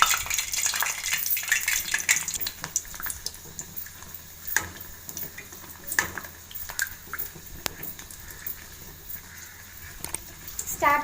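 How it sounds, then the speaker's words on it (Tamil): Pani puri dough rounds frying in hot oil on low heat, a soft continuous sizzle with bubbling and occasional stirring clinks and splashes, close by. "எண்ணெய் காஞ்சதுக்கப்புறம் சிம்மில் வச்சுட்டு தான் ஃப்ரை பண்ண ஆரம்பிக்கணும்"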